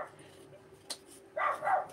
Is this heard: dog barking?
yes